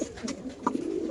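Red checker racer pigeons cooing softly in a cage, low murmuring coos over a faint background hum.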